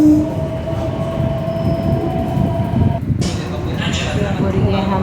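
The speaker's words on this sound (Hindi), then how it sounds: "जल्दी भाग के हमने मेट्रो ली।" Interior of a Delhi metro train at night, a steady low rumble and hum of the moving carriage running throughout, with a brief shift around the middle and occasional higher clatter.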